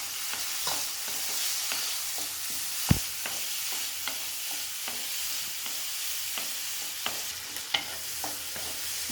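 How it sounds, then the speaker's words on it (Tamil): Chopped onion sautés in a pan for a mushroom thokku, giving a steady, even sizzle broken by light, regular spatula scrapes and one sharp knock. "போட்டுட்டு நல்லா வதக்குங்க"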